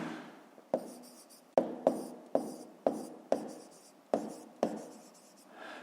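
A pen scratches and taps across paper while numbers and words are written down for a fifth-grade maths exercise, with about nine crisp strokes at an uneven rhythm, close and fairly quiet with no talking.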